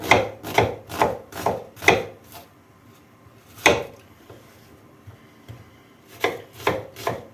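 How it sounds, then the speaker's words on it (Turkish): Rapid knife strokes slice an onion on a cutting board, a quick run of firm thuds, a pause with one stroke, then another short burst. "piyazlık doğrayacağım"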